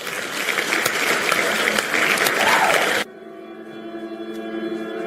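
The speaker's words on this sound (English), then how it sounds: "Everybody, round of applause for Hurricane Slayer." Crowd applause at a spooky-themed Sunday horror shorts party, a dense wash of clapping for about three seconds that then cuts abruptly to a quieter, steadier background.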